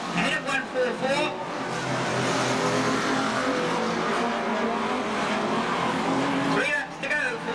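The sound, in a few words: banger racing cars lapping at Ringwood Raceway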